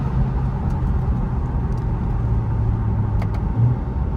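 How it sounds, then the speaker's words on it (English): BMW 135i with an axle-back exhaust and high-flow downpipe, heard from inside during a drive: a steady, subdued low engine and exhaust drone with road rumble, no voices. "Yeah, the exhaust is pretty quiet"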